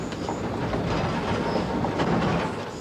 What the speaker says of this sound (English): The train stopped for the umpteenth time to pick up passengers.